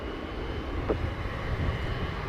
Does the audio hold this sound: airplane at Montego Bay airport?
yes